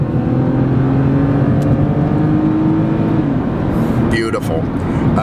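A 2004 BMW 330Ci ZHP convertible's engine revs loudly and steadily close by, its pitch climbing and settling over a constant drone.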